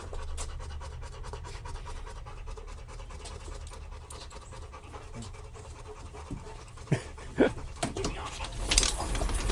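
A dog pants hard and steadily during a treadmill session, with rapid rhythmic breaths close by and some scratching and thumps toward the end.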